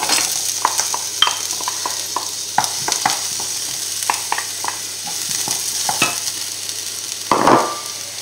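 Onion sautés in a pan for salmon risotto, a soft continuous sizzle broken by repeated clicks and scrapes of a utensil stirring, close and fairly loud.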